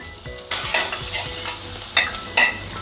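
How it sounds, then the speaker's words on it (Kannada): Chopped garlic cloves hit melted butter in a pan and burst into a loud, steady sizzle, with a few sharper crackling flares and spoon scrapes, no voices. "ಇವಾಗ ಬೆಣ್ಣೆ ಕರಗಿದೆ. ಮೊದಲಿಗೆ ನಾನು ಬೆಳ್ಳುಳ್ಳಿ 4ರಿಂದ 5 ಎಸಳು ಹೆಚ್ಚಿಟ್ಕೊಂಡಿದ್ದೆ, ಅದನ್ನ ಹಾಕೋತಾ ಇದ್ದೀನಿ."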